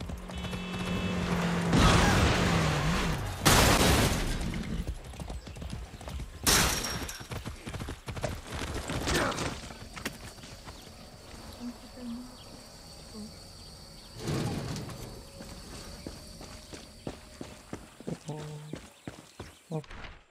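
Horse hooves clip-clop along in the video game Far Cry 6, joined by game sound effects and outdoor insect noise, with someone talking over parts of it.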